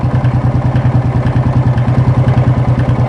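Close up, a Yamaha Fazer 250 motorcycle engine runs at a steady idle, with a loud, even, rapid pulsing beat and some mechanical clatter throughout.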